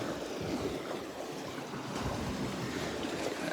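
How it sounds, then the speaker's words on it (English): Water rushing and washing in below a rocky Lake Superior shoreline, a steady broadband surge with gusty wind mixed in, fairly close and continuous. "You got water rushing in down there. You can probably hear it."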